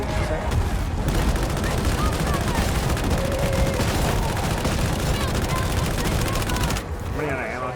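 Rapid automatic gunfire from an Autogun in a Warhammer-style co-op shooter, a dense continuous stream of loud shots with other battle noise, briefly thinning near the end.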